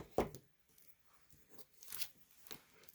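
Scissors snip open the side of a sealed plastic package of purple fine shimmer gems, giving a sharp close crinkly cut followed by soft scattered rustles and crackles of the wrapper, quiet overall.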